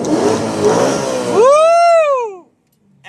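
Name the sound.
BMW E92 M3 engine revving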